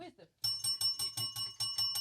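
A bicycle-style bell sound effect rings rapidly and repeatedly, about ten bright metallic dings in quick succession, loud and close, following a brief bit of speech.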